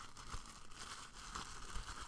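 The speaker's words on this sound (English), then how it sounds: "I like the washi tape. It makes it easier to unwrap." A package sealed with washi tape is being unwrapped: soft, close tearing and crinkling of tape and paper, low and continuous over about two seconds, with no voices.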